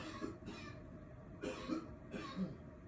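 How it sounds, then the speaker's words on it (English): A man coughs three times in separate bursts, fairly close and moderately loud, with quiet pauses between. "Sorry if you hear my husband coughing."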